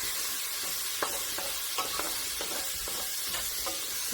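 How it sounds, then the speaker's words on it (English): Onion and garlic frying over medium heat in a pot, a steady sizzle broken by a handful of sharp spoon scrapes as the mix is stirred, close and without talk. "we just want to cook this until we can really smell that onion and garlic"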